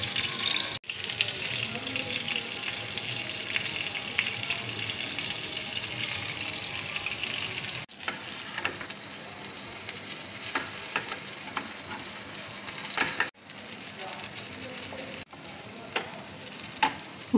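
Garlicky eggplant slices fry in hot oil on a tawa, a bright crackling sizzle close up with scattered pops, interrupted by a few sharp cuts into brief silence.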